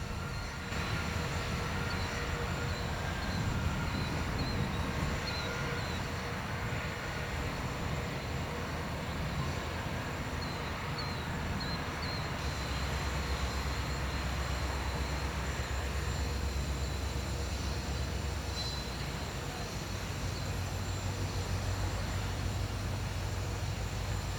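A Central Indiana & Western Railroad freight train occupies the Brookside Road crossing, a continuous rumble of rolling cars and wheels going on at moderate distance throughout, with faint squeals riding over it.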